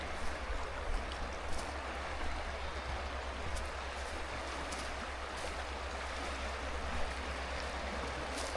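Creek water rushes over rapids on the Roeliff Jansen Kill, a steady, full, broadband roar that stays constant and close throughout, with no talking.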